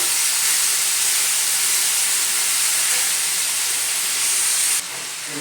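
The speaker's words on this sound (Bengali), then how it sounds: "জলটা দিয়ে ভালো করে এটাকে আমি বয়ল করে নেব" Cabbage and small fish simmering in a pot of water with cumin, potato and beans, giving a steady, loud hiss of boiling and steam that runs unbroken, then drops slightly at the end.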